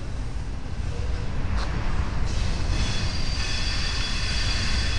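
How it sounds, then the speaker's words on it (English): An intermodal freight train rolls past on the former Norfolk & Western main line at Roanoke, Virginia, a steady loud rumble of wheels and cars lasting throughout, with faint high wheel squeal. "there goes the intermodal that we just filmed"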